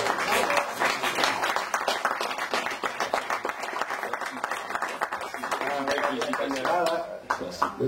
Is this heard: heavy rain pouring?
no